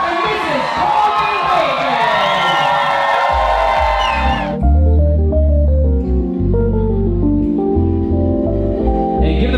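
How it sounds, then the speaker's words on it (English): Wedding guests cheer, whoop and shout loudly for a newly married couple, a dense crowd roar for about four seconds that cuts off abruptly as loud, bass-heavy music takes over. "please make as much noise as you can for your newlyweds, Mr. and Mrs. Colby"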